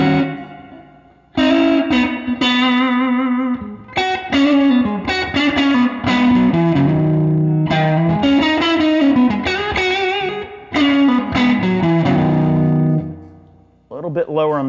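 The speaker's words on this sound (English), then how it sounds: "I like to hear some reverb, a little slapback." A Magnatone 113 Troubadour Deluxe electric guitar amp turned fully up rings out with wet reverb and a short slapback echo, loud sustained chords and melodic phrases with brief gaps between them, the tails trailing off.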